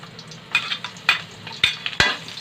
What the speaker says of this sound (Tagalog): Pag uminit ang mantika, lagay mo yung luya.